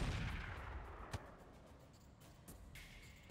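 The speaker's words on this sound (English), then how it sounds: "I kind of want to drop artillery right here" Artillery bombardment in the RogueTech mech game booms low and heavy, one sharp blast followed by a rumbling decay and fainter distant impacts.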